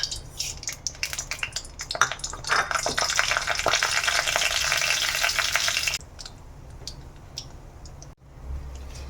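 Mustard seeds, toor dal and cumin sizzle loudly in hot oil in a pan, a dense crackling hiss with small pops, dropping abruptly to a quieter simmer partway through.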